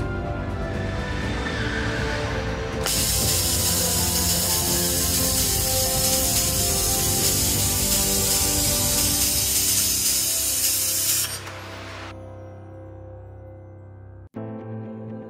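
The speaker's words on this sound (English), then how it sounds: "Stainless steel welding." A laser welding machine welds stainless steel with a loud, steady broadband hiss that begins abruptly and holds for about eight seconds, then stops, leaving a lower machine hum and a sharp click near the end.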